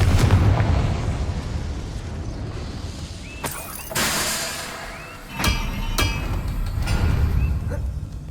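Fiery spell blasts cast in the video game Hogwarts Legacy, a series of loud booming bursts around 0.5, 3.4, 4, 5.5 and 6 seconds over a steady rumbling game background.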